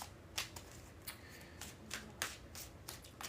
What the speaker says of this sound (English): Less than a minute, and we're going to do 3 shuffles.